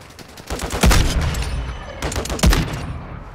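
Gunfire from a Call of Duty multiplayer match on a new map, with repeated loud bursts of automatic shots and two sharp, heavy blasts standing out, all fairly close.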